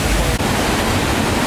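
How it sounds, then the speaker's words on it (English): The Tegenungan Waterfall in Bali: a roaring, steady rush of falling water fills the air, loud and close, with no voices over it. "Look at that waterfall."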